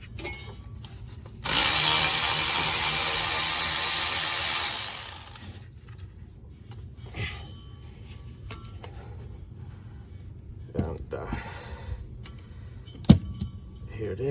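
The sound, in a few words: removing Geo Tracker shifter bolts with tools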